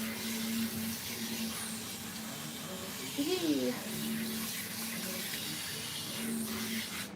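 Water runs steadily over a long-haired cat being rinsed during a bath, a continuous faucet-like hiss and splash with a brief louder gush midway, alongside soft tonal squeaks.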